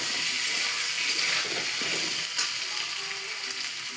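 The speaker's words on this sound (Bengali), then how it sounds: "এবার একটু নেড়ে নিই ভালোভাবে।" Fish curry with cumin and salt stirred in a pan: a continuous bright frying sizzle with soft scraping and rattling movements underneath, close by, gradually easing slightly toward the end.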